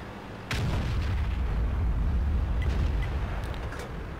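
A tank cannon firing in a tank battle video game, one heavy booming shot followed by a long rumbling roar that lingers, loud and close.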